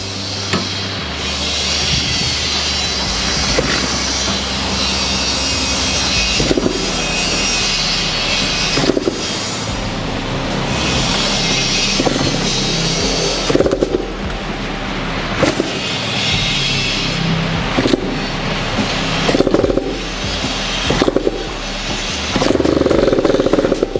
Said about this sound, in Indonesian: dan ini mesinnya udah jalan.